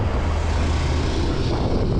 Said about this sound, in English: Can you guys tell how windy it is right now?